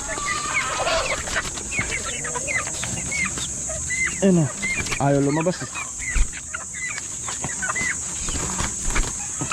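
A four-month-old farm chicken that refuses to be tamed clucks in short calls, louder bursts midway, while a person talks nearby over a steady high-pitched background whine.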